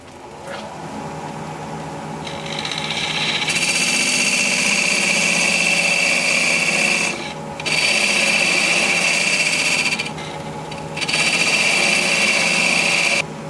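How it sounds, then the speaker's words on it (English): A parting tool cuts into Russian olive wood spinning on a lathe at a little over 900 RPM, making a loud, steady high-pitched whine with a motor hum beneath. The cutting stops briefly twice. "I'm just going to use a parting tool to cut away from the block of wood in the chuck."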